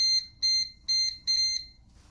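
A Thermoblend kitchen appliance beeps four times in quick succession, each a loud, shrill electronic tone of about a quarter second, alone in a quiet kitchen.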